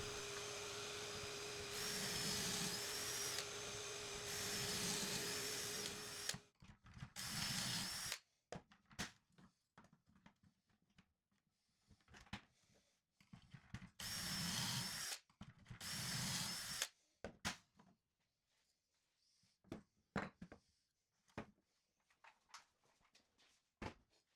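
Drill boring pocket holes in wooden bench planks, loud whirring bursts of a few seconds each separated by pauses, with quieter clunks and handling noises in between.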